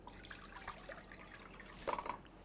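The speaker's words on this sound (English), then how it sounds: "I'm going to add water" Water being added to a pot for a spicy pickling brine for Virginia beets, a soft, faint trickling and splashing that swells briefly near the end.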